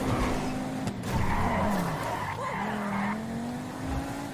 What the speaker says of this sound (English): Car started drifting out there.